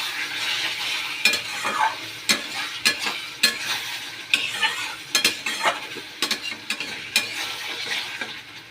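Potatoes tossed with cumin, turmeric, salt, Kashmiri chilli powder and garam masala in a hot pan, a spatula scraping and clattering in repeated sharp strokes over a steady sizzle, close and fairly loud with no talking.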